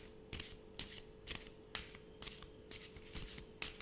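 Playing cards are shuffled by hand for a psychic card reading, giving about eight crisp riffling bursts in a steady rhythm, close and clear with no talking.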